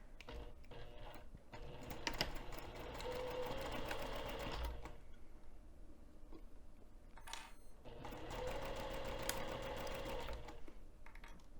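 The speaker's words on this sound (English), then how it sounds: "we're going to be sewing 1/8 of an inch away from the edge of the fold over elastic" A sewing machine stitching fold-over elastic onto a mesh bag pocket at a 3 mm stitch length, running in two steady rapid bursts separated by a short pause, close and clear.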